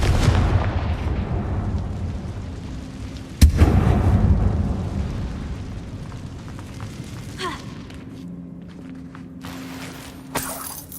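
A Confringo fire spell explodes in the Hogwarts Legacy video game inside a closed mine, a loud boom that rolls out into a rumbling tail, followed by a softer second burst and scattered clatter.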